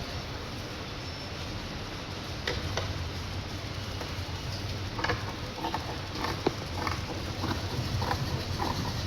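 Scissors snipping through cloth while cutting out a blouse pattern in a tailoring class, a run of small crisp clicks and snips at close range over a steady low background hiss, with no talking.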